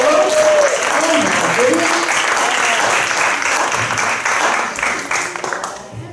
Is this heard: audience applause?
yes